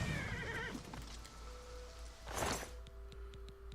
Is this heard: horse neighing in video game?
yes